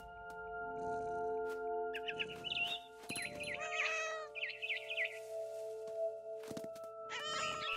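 A cat meows repeatedly in short, bright cries inside the game What Remains of Edith Finch, set over a steady tonal music bed, with no talk.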